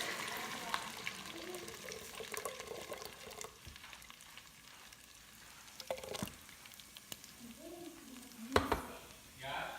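Butter chicken sauce poured into a hot pan, sizzling and bubbling softly with occasional stirring scrapes, fairly quiet and close, with brief speech in places.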